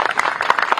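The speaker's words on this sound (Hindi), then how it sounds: "मैं चाहूंगा एक बार जोरदार सब तालियां बजाइए।" Applause from a festival crowd at the Uttarakhand Malta (citrus) Festival in Dehradun, a short dense burst of clapping heard close and fairly loud.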